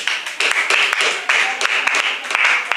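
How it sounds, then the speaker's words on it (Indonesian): An audience at a school debate final applauds the pro team, producing dense, close clapping with sharp individual claps poking through the steady patter. "beri aplaus kepada tim Pro"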